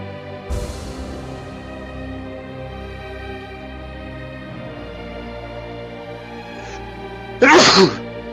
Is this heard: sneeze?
yes